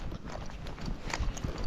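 Hooves of a Tennessee Walking Horse mare clip-clop in a quick, light rhythm on a trail, faint and brief, with low rustling in the background.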